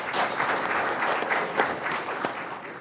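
An audience at a National Assembly policy forum claps in a steady, moderately loud burst of applause, with a few sharper individual claps standing out from the group.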